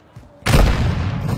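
Loud, close gunfire blast in a first-person shooter video game, with a sharp onset followed by sustained rumbling booms and a dense volley of shots.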